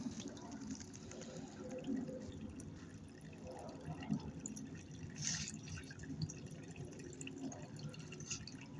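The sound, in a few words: water flowing from a hose over sand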